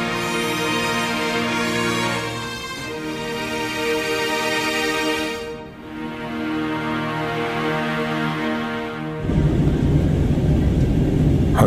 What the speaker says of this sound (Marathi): हंगेरीचे ढग ओलांडून विमान थरथरीत खाली उतरायला लागले.